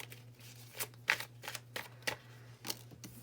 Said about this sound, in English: I'm going to be shuffling the cards right now